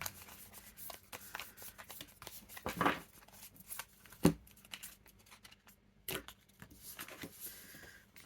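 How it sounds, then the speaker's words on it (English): Quiet rustling and flicking of tarot cards being shuffled, with a couple of sharper snaps and soft handling noises in between. "I'll just shuffle the cards again"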